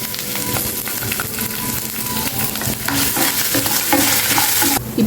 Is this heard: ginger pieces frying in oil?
yes